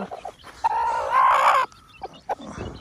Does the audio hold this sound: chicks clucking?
yes